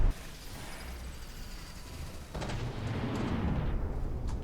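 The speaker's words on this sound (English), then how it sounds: "Oh, immediate explosion. Love to see it. Probably some ammo going up somewhere." Ship ammunition exploding in a battleship video game, a rumbling blast that swells midway and rolls on under a steady wash of background noise, fairly faint overall.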